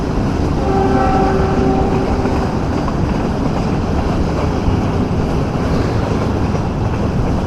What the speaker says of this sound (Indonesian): Jadi ini ada kereta api tangki lewat